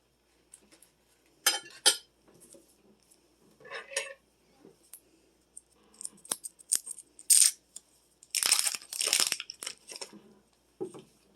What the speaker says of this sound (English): I'm going to cut into the potato with the fork.